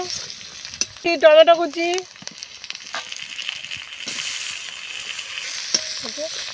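Chopped onion with garlic and ginger paste fry in a pan, a soft sizzle running under a brief spoken phrase, with light stirring clatter.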